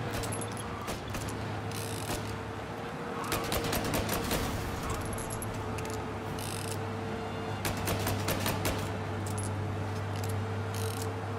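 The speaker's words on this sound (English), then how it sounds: "I'm just gonna keep shooting." Rapid gunfire in the PC game Mafia: Definitive Edition, a steady run of sharp shots with bursts clustered around the middle and end, set over a constant low engine-like drone.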